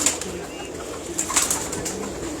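Pigeons, gifted birds from a Lala Musa pigeon keeper's loft, coo softly and steadily at close range against a faint background hiss, with occasional light rustling.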